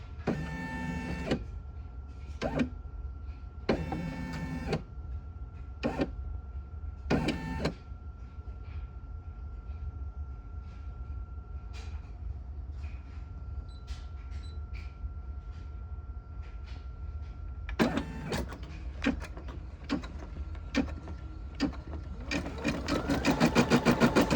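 A Brother SE625 embroidery machine stitching with a magnetic hoop, bursts of rapid mechanical needle chatter separated by pauses, then a long steady hum with faint tones before stitching resumes, close and alone.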